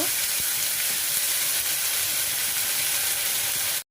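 Cumin and ginger paste sizzles as masala is sautéed in a pan for a vegetarian raw-banana kofta, making a loud, close, continuous frying hiss that stops abruptly at the end.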